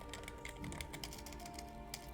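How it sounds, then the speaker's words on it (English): Faint, quick keyboard typing, a steady patter of soft key clicks under a low background hum. "I'm typing this out."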